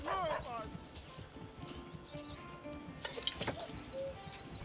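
Horse hooves clip-clopping with a brief whinny in the Manor Lords video game, set among chirping birds and ambient village sounds, with a voice talking over parts of it.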